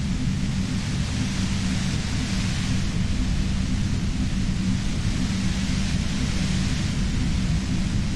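Dense, steady rumbling static with a heavy low-end roar fills the whole stretch, a constant loud noise bed from the Disco Elysium video game with no voices over it.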